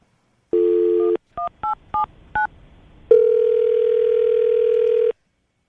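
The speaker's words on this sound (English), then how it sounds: "I'm going to try to get him back on the phone" A telephone plays a steady tone, then four short dialing beeps in quick succession, followed by a long continuous ringback tone, clear and alone with no speech.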